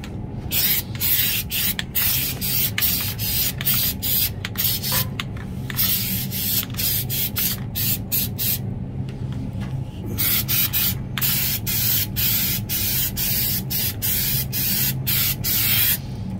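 Nu-Calgon Pan-S coating sprayed onto a rusted-through produce case evaporator drain pan, a loud steady aerosol hiss running almost continuously with brief breaks between bursts, close up and without talk.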